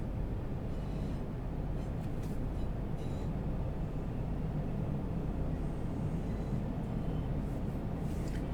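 A Class 170 train in Train Sim World 5, with a sound mod, runs along the line with a constant low rumble and rolling noise, steady and fairly loud throughout with no talking.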